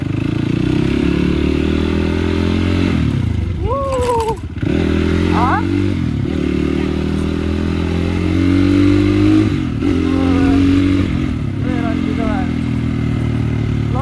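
A motorcycle with failed brakes rides downhill, its engine droning steadily at a low, even pitch while coasting, with wind rumble, occasional clatter and a voice talking over it.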